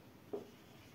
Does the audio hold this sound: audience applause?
no